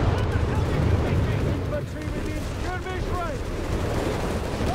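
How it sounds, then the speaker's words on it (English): Artillery strike in the strategy game Company of Heroes 3: a continuous heavy rumble of shelling and explosions with a dense low roar throughout, under someone talking. "Artillery strike underway."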